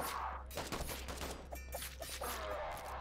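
Gunshots in the alpha demo of the video game Krankenheit pop as a few faint, scattered reports over a steady low hum.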